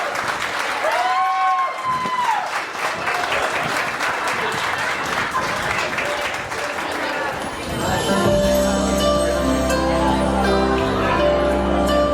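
Loud sustained applause from a crowd for a couple, with steady clapping and some cheering and chatter throughout; a music-like tonal sound rises under the clapping toward the end.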